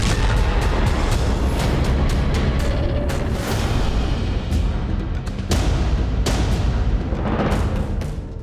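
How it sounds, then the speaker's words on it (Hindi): Loud booms and sharp blasts from a misfired rocket over the Gaza Strip ring out in a rapid, irregular series of reports, with rumbling echoes between them. "तभी एक मिस फायर रॉकेट से तेज धमाका"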